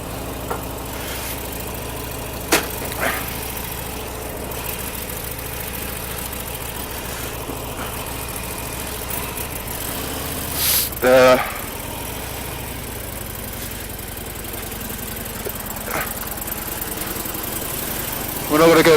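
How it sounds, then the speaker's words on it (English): A motorcycle engine runs steadily at low, idle-like revs through the whole stretch, a continuous mid-level drone with a few short clicks and bumps on top, heard on a warm day before a ride around town. "let's take the bike out"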